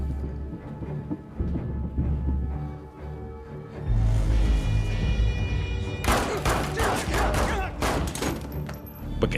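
Gunfire erupts in an action film scene as a man tries to shoot a woman who fires first: a dense, rapid burst of loud shots following a stretch of heavy rumbling score and thuds.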